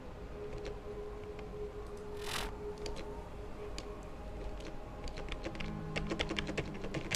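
Rapid clicking of keys on a computer keyboard, uneven bursts of typing at moderate volume close by, with faint background hum.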